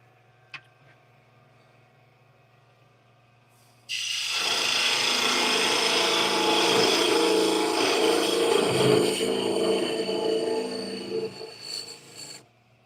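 After a quiet start, a loud continuous scraping and hissing of a tool parting off wood on a lathe begins and holds for several seconds, wavering slightly before tapering off near the end.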